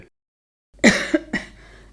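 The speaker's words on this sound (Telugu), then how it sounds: "నాకు చాలా రోజుల నుంచి దగ్గొస్తుంది." A person with a long-lasting cough coughs twice, close and fairly loud. The coughs come after a stretch of near silence, the second harsh burst following the first by about half a second.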